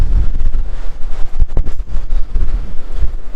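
Wind gusting across the deck of the Carnival Luminosa cruise ship, loud buffeting rumble against the microphone with fluctuating gusts and no talk.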